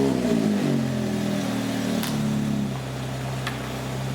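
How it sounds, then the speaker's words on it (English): A Lotus Exige with a 1.8 four-cylinder engine and aftermarket exhaust settles into a steady, close idle, with a deep throaty exhaust drone and a couple of brief clicks or ticks. "So it starts right up, and then you can hear the exhaust"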